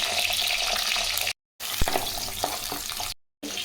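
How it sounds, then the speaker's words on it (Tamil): Shallots crackle and sizzle in hot oil in a kadai, a loud, steady, close frying hiss broken by two brief silent gaps, with no voices. "ஒரு 75 கிராம் சின்ன வெங்காயம் எண்ணெயில் போட்டுக்கலாம்"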